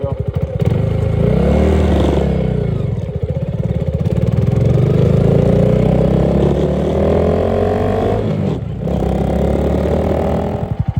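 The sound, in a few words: Honda Grom motorcycle riding with engine running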